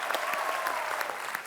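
Steady applause from a stage-show audience welcoming a performer, dense continuous clapping with a few faint cheers, no speech.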